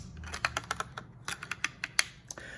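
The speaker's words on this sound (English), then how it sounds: "listen to the sound that gets created as the bat flies up" Quick, crisp papery flutters and clicks from a pop-up book's paper bat flying up, a rapid irregular burst of light flapping up close, then a soft rustle at the end.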